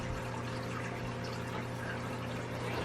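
Aquarium water trickles from the tank through a thin tube into a bucket, a steady, soft, continuous pouring and dribbling sound over a low hum, close by and with no talk.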